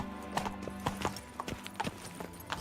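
Roach, a horse in the video game Witcher 3, trots along with crisp, evenly spaced hoof clip-clops standing out clearly over a low droning background, with no talk.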